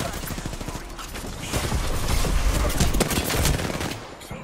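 Rapid gunfire from an Apex Legends firefight, dense overlapping automatic bursts rattling continuously and growing louder midway, with a voice faintly underneath.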